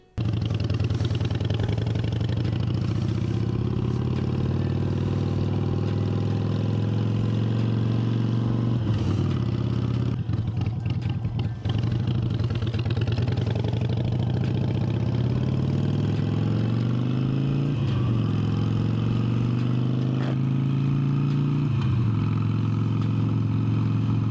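Harley-Davidson Sportster motorcycle engine running steadily throughout, with a loud low rumble and rising and falling revs as it rides off and shifts, no talk.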